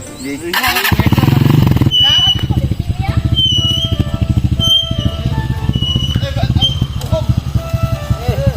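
A habal-habal motorcycle taxi rides with a steady, loud engine drone and rhythmic putter that runs almost the whole way, while people talk over it close by.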